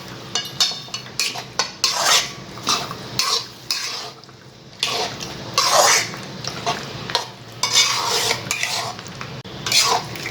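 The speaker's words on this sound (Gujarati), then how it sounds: "હવે ફરીથી બધું આપણે મિક્સ કરી દઈશું." White sauce pasta with cream being stirred in a pan, a spoon scraping and clinking against the metal in irregular bursts with soft sizzling between strokes.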